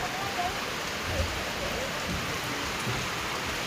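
Steady, dense hiss of heavy rain pouring down, constant and close, with no voices.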